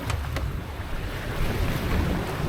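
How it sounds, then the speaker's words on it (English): Wind and waves rush steadily around a sailboat running straight downwind in gusts of about 20 knots, a continuous close roar of water and wind noise with no talking. "Wind's picked up. It's probably gusting up to about 20 knots now."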